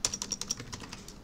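A computer keyboard clicks through a quick run of about eight light keystrokes in a steady, even rhythm, quiet and close with nothing else heard.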